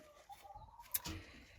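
Birds squawk and coo outdoors, faint and distant, with a few scattered calls over quiet background.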